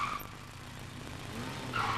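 A white car driving fast on a residential street, tires squealing and skidding with a harsh screech and engine roar that swells at the start and again at the end.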